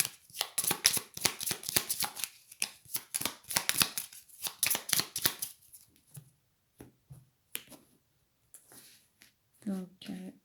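Tarot cards shuffled by hand: a rapid run of crisp riffling flicks for several seconds, then sparser separate card snaps and slides, close up, with some talking around them.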